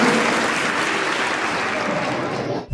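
An audience at a competition claps together in dense, steady applause that fills the space and stops abruptly near the end.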